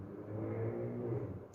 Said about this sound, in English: I'm filming at a place where the main road is right opposite me, so there's cars going up and down and hooting and trucks.